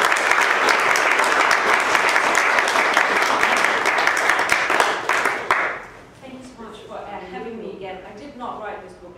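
An audience applauds to welcome an author at a New York library lecture: dense, steady clapping for about five seconds that fades out, followed by someone speaking alone.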